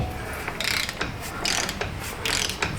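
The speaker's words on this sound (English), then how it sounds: "Let's turn our torque wrench down." Torque wrench being turned down to a lower setting while working on a 2021 Ram 2500 6.4 HEMI wheel bearing: close, rapid ratcheting clicks in several quick bursts, alone without talk.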